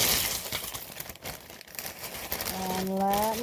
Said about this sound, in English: Okay, so I'm going to pour ice